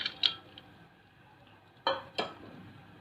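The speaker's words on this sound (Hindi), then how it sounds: "अब मैं इसमें डालूँगी चने की दाल।" Chana dal lentils drop into a cooking pot with a few sharp clinks and rattles, one early and two close together later, between quiet pauses.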